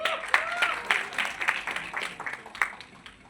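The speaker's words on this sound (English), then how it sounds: "can we have a big round of applause for Satyaraj sir?" An audience at a film trailer launch claps in a short burst of scattered, moderately distant applause that tapers off over a few seconds.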